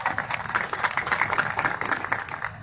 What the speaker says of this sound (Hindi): अपने आप के लिए एक बार जोरदार तालियां बजाना।